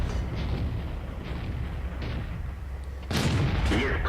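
Tank cannon fire in the World of Tanks game during a tier 7 T-43 medium tank battle: dull, rumbling distant booms roll under the din, then a louder, sharper shot bursts out near the end.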